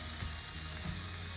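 Methi leaves frying in a pan with a steady, soft sizzle and faint crackle, close and continuous with no voices.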